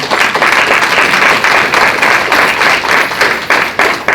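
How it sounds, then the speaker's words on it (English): Close, loud clapping from a small crowd honoring the city of Crestview at the unveiling of the Allen Park mural, individual hand claps audible in a brisk, uneven patter. "give Tim Balduck and the city of Crestview a round of applause"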